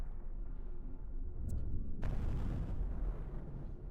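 A bomb goes off in a trench warfare game. A low rumble builds and then a sharp, loud blast hits about halfway through, followed by a rolling roar.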